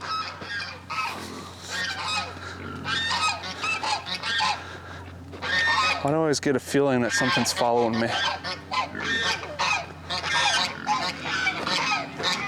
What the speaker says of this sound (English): Geese, I'm sure, are gonna get pretty loud, so I already hear them squawking.